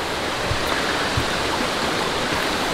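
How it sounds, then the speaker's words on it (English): Water runs down a stream on the resort grounds of Disney's Wilderness Lodge. A constant, close rushing wash is broken by occasional small splashes, with no voices. "Here's the water running down."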